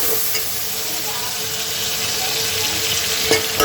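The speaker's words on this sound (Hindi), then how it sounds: "हम अच्छे से टमाटर को भूनेंगे।" Tomatoes frying in a pan for a home-cooked khichdi, giving a steady close sizzle with soft stirring scrapes and a brief clatter near the end.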